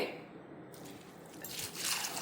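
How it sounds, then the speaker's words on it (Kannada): Sago pearls (sabudana) being washed in water in a home kitchen, giving soft, continuous squishing and wet sloshing that is quiet and fairly close, with no voices. "1-2 ಬಾರಿ ನೀರಿನಿಂದ ಚೆನ್ನಾಗಿ ತೊಳೆದು ಅದು ಸ್ಟಾರ್ಚ್ ಎಲ್ಲ ತಕ್ಕೋಬೇಕು"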